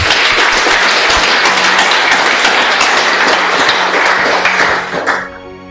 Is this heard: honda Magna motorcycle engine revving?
no